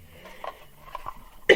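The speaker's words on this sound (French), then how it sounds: "j'arrête pas de tousser" A single short, sharp cough bursts out at the end after a moment of quiet breathing and faint rustle.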